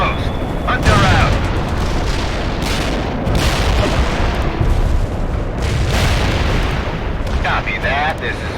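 Repeated booming explosions and blasts from the World in Conflict combat game, with vehicles being blown apart, forming a dense, continuous rumble of heavy detonations throughout, mixed with game radio chatter.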